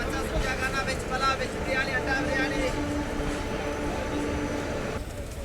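The Yelahanka Kacheguda Express rolls along with a continuous rumble and faint clatter of wagons, while a voice talks over it.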